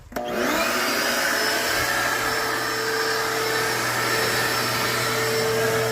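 A vacuum cleaner switches on with a sharp start and runs as a steady, loud whine and roar, sucking debris off the engine of a 1974 Ford F100 pickup parked for 21 years.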